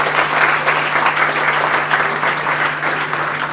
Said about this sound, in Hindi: मैं एक बार जोरदार ताली चाहूँगा